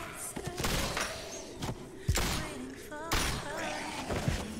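Gunfire in The Walking Dead: A New Frontier video game, several loud sharp shots and heavy thuds in an irregular burst against a busy, noisy scene, with brief voice fragments between them.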